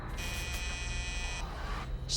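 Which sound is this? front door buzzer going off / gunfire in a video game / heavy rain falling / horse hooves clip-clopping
front door buzzer going off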